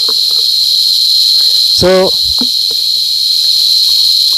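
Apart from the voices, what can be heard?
male cicadas calling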